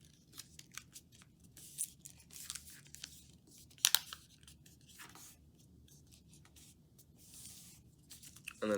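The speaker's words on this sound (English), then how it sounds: "Then we're going to fold that in half, line it up with the bottom" Sheets of origami paper are creased and folded in half, giving soft, quiet rustles and crinkles with a few sharper crisp snaps scattered through a low room hum.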